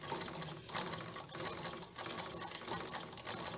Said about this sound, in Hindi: तो इसको थोड़ा सा और चलाते हैं हम